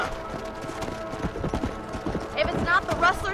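Horse hooves clip-clopping in the Red Dead Redemption video game, a rapid uneven rhythm of close, fairly loud hoof strikes, with talk running over them and a whinny-like call near the end.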